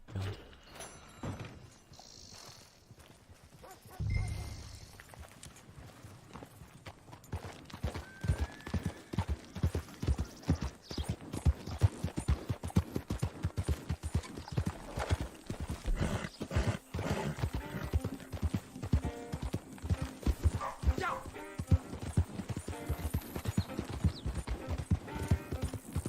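Horse hooves clip-clop in Red Dead Redemption 2 Online, starting quiet and then settling into a steady, close rhythmic trot that runs for most of the stretch.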